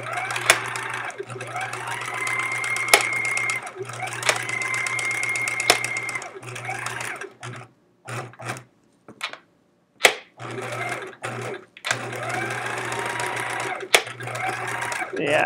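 A sewing machine stitches quilt fabric made from scraps in fast, steady whirring runs, stopping and starting in short bursts midway before resuming, close and clear with a voice talking over it.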